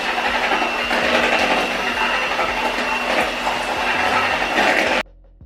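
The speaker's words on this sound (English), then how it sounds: "I am mixing it on the lowest speed." An electric hand mixer whirring steadily at its lowest speed while mixing banana bread batter, a close, constant mechanical drone with faint rattling that cuts off abruptly near the end.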